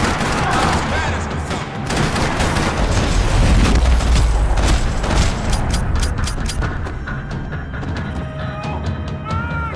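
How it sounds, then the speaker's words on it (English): Rattling automatic gunfire fills a parking lot shootout in the video game Max Payne 3, dense overlapping bursts with booming impacts, loud and continuous throughout. "Another parking lot rattling with gunfire."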